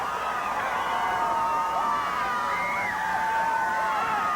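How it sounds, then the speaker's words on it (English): Arena crowd at a 1988 professional wrestling event cheering and yelling loudly and continuously, shrill whoops and shouts urging a wrestler on. "you see this crowd urging him on"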